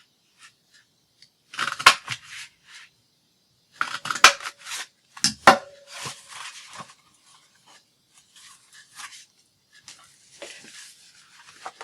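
Scissors snip through scrap material to cut small circles, with sparse crisp clicks and short bursts of cutting separated by quiet pauses, close and fairly soft.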